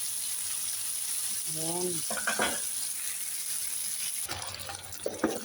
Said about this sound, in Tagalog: lagyan lang natin konti muna ng tubig at para maging siya malambot